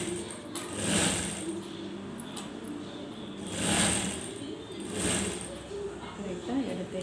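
Sewing machine stitching a collar, a near continuous motor hum with periodic louder swells, while a person talks over it.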